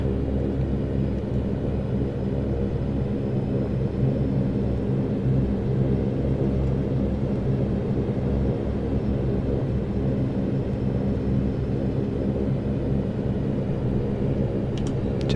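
A Saab 340 turboprop taxis in the X-Plane 11 flight simulator, its engines giving a steady low rumbling drone that stays constant throughout, with no speech.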